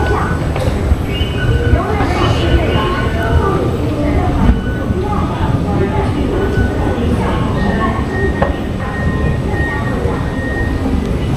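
Taipei metro train on the Bannan (blue) line, a steady broadband rumble of carriage and wheel noise running throughout with faint tonal whines, with some talk in the background.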